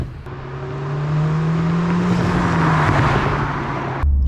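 A 2019 Honda Civic Type R engine hums steadily from inside the cabin, its drone rising slightly as the car picks up speed, with constant road noise throughout.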